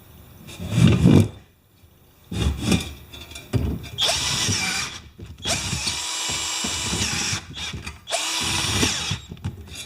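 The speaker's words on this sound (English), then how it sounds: "I'm going to try and drill them." A power drill whines and grinds in several bursts, starting and stopping, then running longer stretches as it bites into material up close, with short quiet gaps between pulls of the trigger.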